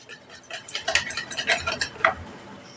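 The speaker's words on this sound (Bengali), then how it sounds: "দিয়েও আবার এটাকে ভালো করে ফেটিয়ে নিলাম" A utensil rapidly beats a thin spring roll batter of flour and water in a bowl, producing quick, uneven clinks and wet slaps close by with no talking.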